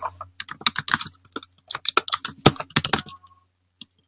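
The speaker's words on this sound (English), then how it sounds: "I'm going to type it in for you." Quick bursts of keystrokes on a computer keyboard as an email address is typed, close and fairly loud with irregular clicking clusters and brief pauses, ending in a single last tap.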